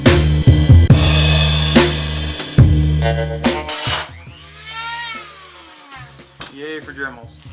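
Dremel rotary tool cutting an aluminum dash, whining in short loud bursts with starts and stops, then winding down in falling tones, with people talking in between.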